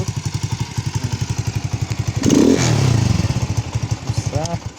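A new Alfa moped's small engine putters steadily in a fast, even rhythm, with a louder revving swell midway before settling back to idle.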